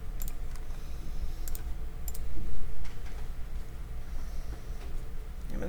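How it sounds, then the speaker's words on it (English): Someone types a function into Desmos on a computer keyboard: soft, quick key clicks in irregular bursts, faint over a steady background hum, with no talk. "I'm going to go to Desmos and I'm going to type that function in"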